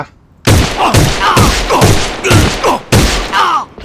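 Rifle gunfire from a K-2 assault rifle in the online shooter A.V.A, heard as loud, close bursts of shots that repeat at a steady rhythm roughly every half second, each crack trailing off briefly.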